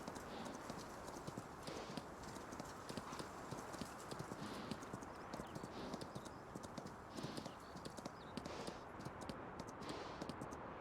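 Rapid clip-clop of horse hooves trotting continuously in a winter setting, fairly close and steady, over a noisy game-like background.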